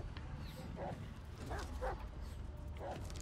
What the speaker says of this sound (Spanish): ¡Perrete!